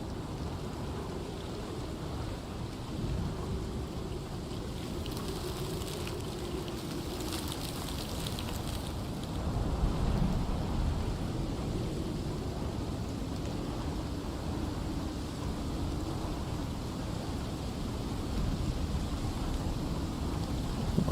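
Thunderstorm in a survival video game: steady rain hisses continuously while low thunder rumbles underneath, swelling louder midway and holding on without any talk.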